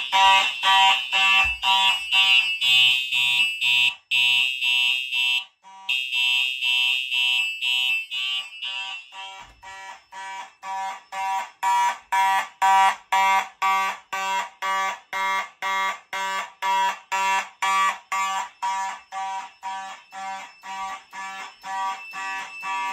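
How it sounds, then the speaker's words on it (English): A loud fire alarm, set off from a pull station in a laundry room, blares nearby, first as a steady tone, then as a rapid run of regular pulsing beeps that continues throughout. "I'm not kidding you whenever I say those alarms are loud"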